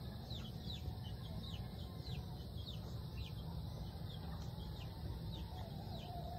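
Chickens cluck on a farm at daybreak: faint, scattered short clucks over a steady, noisy outdoor background, with no one speaking.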